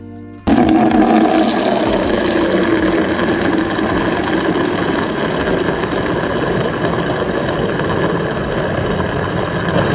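Water and dish-washing soap pour steadily into a bucket for cleaning a car seatbelt, a loud, continuous rushing gush that starts abruptly after half a second and runs alone without voices.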